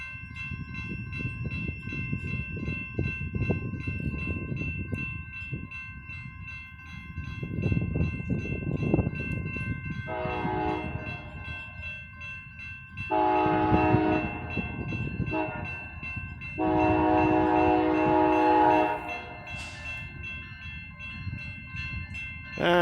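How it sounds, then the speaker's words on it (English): A CSX GP-38-3 diesel locomotive rumbles steadily nearby, running southbound in Plymouth, Michigan, while its horn sounds in several loud blasts, some short and some long, over continuous engine noise. "We just had a huge stack train clear here, and now this guy's coming southbound."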